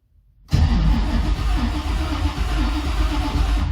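A 1955 Chevy engine fires up after a half second of silence, catching abruptly and settling into a loud, close, rumbling idle with slight unevenness and no talk.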